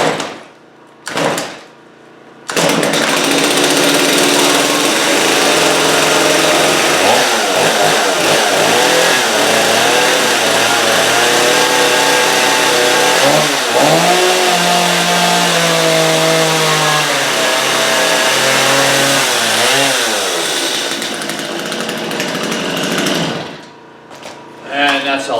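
A STIHL MS250 chainsaw coughs on a couple of rope pulls, then catches and runs loudly for about twenty seconds with several rising revs before cutting off, with talk around it.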